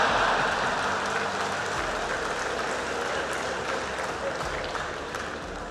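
A large crowd at a political speech applauds in a dense, continuous roar of clapping, loud and sustained, slowly fading slightly toward the end.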